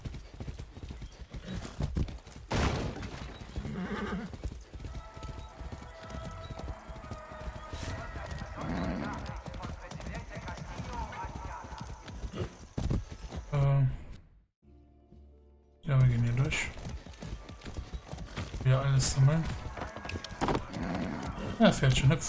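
A horse in the Far Cry 6 video game clip-clops along in rhythmic hoofbeats with a whinny, under game music and effects while someone talks over it; the sound briefly cuts out near the end.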